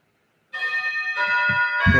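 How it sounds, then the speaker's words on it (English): A doorbell rings indoors with a sustained, bright chime that starts abruptly after half a second and carries on to the end, with a couple of low thumps near the close. "sorry about the doorbell."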